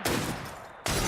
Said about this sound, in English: That sounded like a second gunshot.